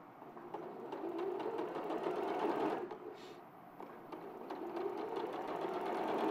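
A sewing machine over-sewing fabric seams runs in a long continuous whirring stitch, close and fairly loud, easing briefly around the middle before picking up again, with no voices over it.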